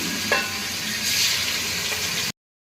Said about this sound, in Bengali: এবার মাছগুলো আমি আস্তে আস্তে সাদা তেলে যেটা বেরেস্তা ভাজা ওর মধ্যে দিয়ে দেবো